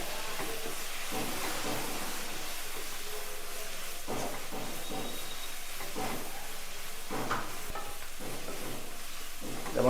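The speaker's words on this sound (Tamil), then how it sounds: "மசாலா சேர்த்து ஒரு நிமிஷம் இதை ஃபுல்லாக வதக்கிட்டோம்" Masala being sautéed in a pan for dried fish rice, with a steady sizzle and intermittent stirring scrapes running evenly through the whole stretch at moderate loudness.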